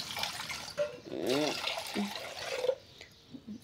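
Water pours into a pot or pan while making tea at home, a short wet splash and gurgle up close, with voices talking around it.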